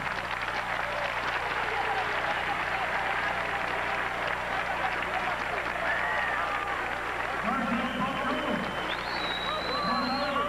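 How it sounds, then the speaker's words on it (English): Audience applause at a formal college gathering rises as a steady, moderately loud wash of clapping, with people talking and calling out over it and a few brief tonal sounds near the end. "Please join me in a round of applause for William Patrick Clark."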